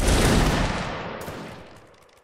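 A massed musket volley from a line of infantry in a Napoleonic Wars line battle game erupts as one loud, crackling blast that rolls and fades away over about two seconds.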